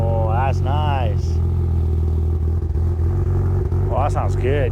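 A BMW Z3 M car with a new exhaust idles steadily up close, a low rumbling drone throughout, while people talk over it.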